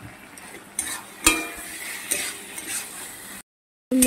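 Spices with red chili powder fry in a pan while a spatula stirs and scrapes, producing sizzling with several sharp metallic knocks, a sudden brief silence, then the frying resumes.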